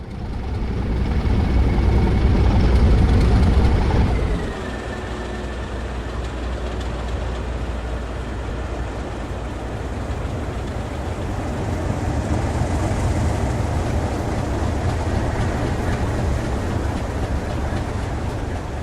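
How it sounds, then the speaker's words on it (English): A train heads onto a single-track section at Sellercroft, its engine rumbling heavily at first and then easing to a steady lower drone as it rolls on, with a faint tonal whine fading partway through. "607 leads the train onto the single-track section at Sellercroft."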